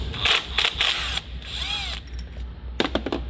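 A socket ratchet fitted with an E10 Torx socket loosens a very long bolt holding the transmission filter on a GM 10-speed transmission, giving bursts of rapid close ratcheting clicks with brief pauses between them.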